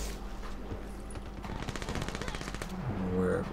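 Rapid automatic gunfire in a first-person shooter video game, a dense fast burst of shots at moderate distance over a game soundscape, ending in a low rumble.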